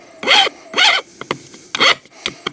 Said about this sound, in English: you want to file that off so it'll fit into the hole in the bracket properly